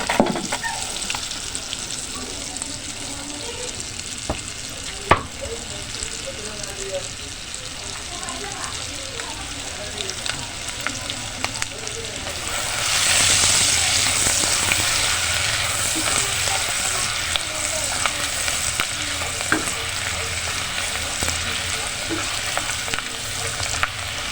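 Garlic sizzles in butter and dairy cream in a home kitchen pan, a soft steady frying hiss that swells louder partway through as a spoon stirs, with someone speaking over it.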